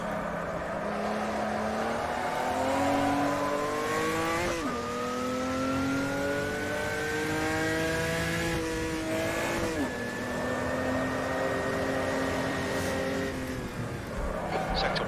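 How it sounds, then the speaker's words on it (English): A 1986 Opala Stock Car engine revs in the Automobilista racing game, its harmonics climbing through the gears with two sharp drops at gear shifts. It is loud and continuous, with a voice talking over it. "Opala Stock Car from Ford."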